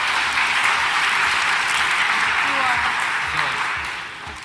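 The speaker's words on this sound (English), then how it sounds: "A round of applause for our winners again." At a university orientation event, an audience claps for the winners in steady, fairly close applause that tapers off toward the end.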